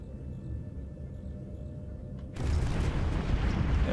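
Kinetic artillery fire in a Stellaris space battle: a quiet low rumble, then an abrupt loud burst of explosive impacts at the midpoint, carrying on as dense, crackling blasts.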